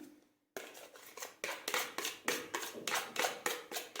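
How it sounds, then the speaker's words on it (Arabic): Orange zest is grated for a cake batter in a steady run of brisk, close scraping strokes, roughly three per second, starting after a short silence and continuing evenly to the end. "ننزل بشر البرتقال كمان"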